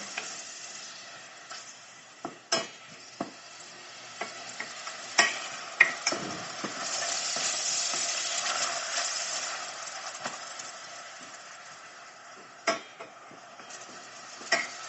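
Onion and garlic frying in lard (mantika) give a steady close sizzle, broken by repeated sharp scrapes and knocks of stirring in the pan, with no talking.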